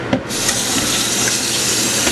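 Tap water runs hard into a 24-quart stock pot for lentil soup, a loud steady gushing fill that starts abruptly and continues without speech.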